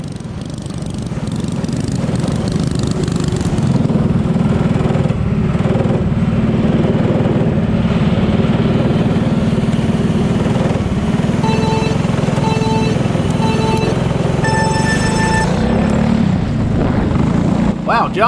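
Go-kart engines race on a dirt track during a heat race, a continuous loud buzzing drone from several nearby karts, with a commentator talking over it.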